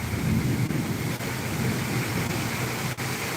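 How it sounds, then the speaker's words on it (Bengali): Heavy rain with thunder pours in a dense, steady roar with a low rumbling underneath and no voices. "মুষলধারে বৃষ্টি হয়"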